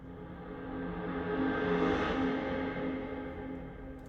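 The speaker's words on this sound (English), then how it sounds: "It's just a guitar that I reversed with a lot of reverb to sound like this." Reversed guitar drenched in heavy reverb, swelling as a dense sustained wash that builds to a peak near the middle and slowly fades, used as a transition into an indie rock chorus.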